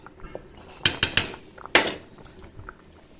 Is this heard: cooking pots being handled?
yes